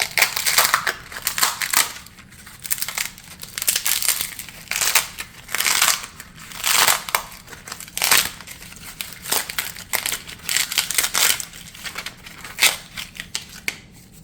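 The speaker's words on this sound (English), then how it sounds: "Now I'm also cutting the loofah, which you could hear." Crisp, repeated crunching and crackling of a dry, fibrous loofah being cut, coming in irregular close-up bursts with no one talking.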